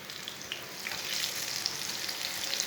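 Eggplant slices fry in a pan, giving a steady, close crackling sizzle with small pops that grows slightly louder partway through, alone without voices.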